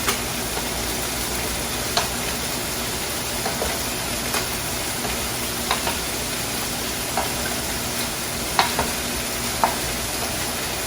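Cod fillet cooking in a pan, a steady soft sizzle and hiss with occasional light clicks and taps of a utensil against the pan, no voices.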